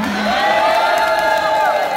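Crowd cheering and whooping at a Miss Gay pageant during a championship celebration in the Philippines, a sustained roar of shouts and high voices filling the hall.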